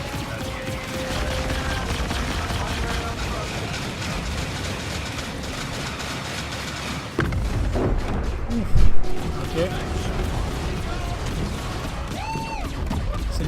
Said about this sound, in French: C'est le festival des explosions.